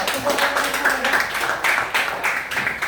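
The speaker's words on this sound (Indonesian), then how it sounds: "kasih tepuk tangan untuk kelompok 2" Classroom clapping for a student group, a brisk run of uneven hand claps from a small gathering, fairly close and steady for a few seconds, no voices over it.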